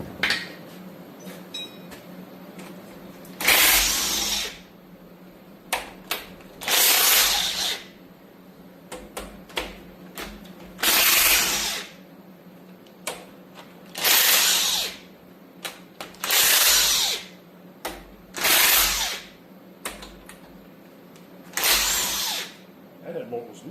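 A power tool breaks loose the head bolts on an LT1 engine in short repeated bursts, about eight of them at an even pace, fairly close with quiet workshop gaps between.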